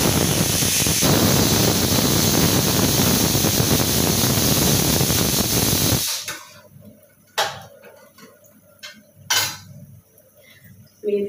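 Onions, green chillies and tomatoes hit a hot pan with a loud, dense sizzle for about six seconds, then it cuts to a quiet stretch with a few sharp clinks of a utensil against the pan.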